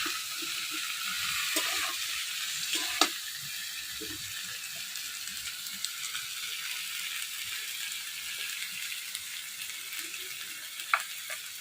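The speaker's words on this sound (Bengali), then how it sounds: "আস্তে আস্তে বাজবো, বেগুন তো গলে যাবে।" Flat beans and eggplant fry gently in a small wok, making a steady low sizzle broken by occasional clicks and scrapes of a spatula against the metal.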